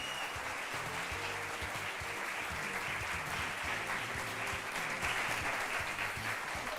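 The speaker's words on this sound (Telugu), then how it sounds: "మీరు చప్పట్లు కొడుతూనే ఉండండి" A studio audience on a televised courtroom-style talk show keeps up sustained, even applause, a thick wash of clapping with a low music bed running underneath, and no one speaking over it.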